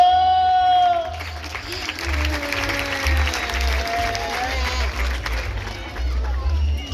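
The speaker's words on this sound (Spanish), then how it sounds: "Regálame un fuerte aplauso." At a Mother's Day celebration hosted by the municipal mayor in Joyabaj, a crowd applauds for doña Tomasa, steady clapping mixed with chatter and a low rhythmic thumping, with voices speaking over it.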